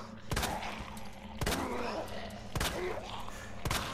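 Four loud gunshots ring out in Resident Evil 2 Remake, spaced about a second apart, each a sharp crack with a booming tail and faint ambient rumble between shots.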